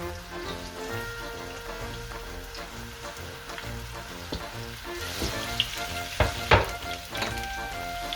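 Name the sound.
whole onions and garlic frying in a hot pot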